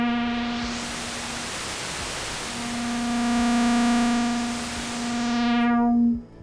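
Moog Mother-32 synthesizer blending its oscillator waveform with white noise: a broad hiss over a sustained buzzing tone whose pitch drops out briefly and returns as the mix swells and dips, loud and steady until a sudden stop.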